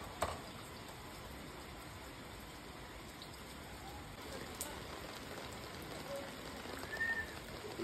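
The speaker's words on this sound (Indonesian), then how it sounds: "Hujan euy" Faint, steady rain falls throughout, a soft continuous patter with a few scattered drops. No clear voices come through.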